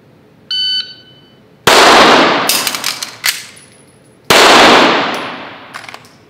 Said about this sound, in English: We'll practice this, one in the head, reload, one to the body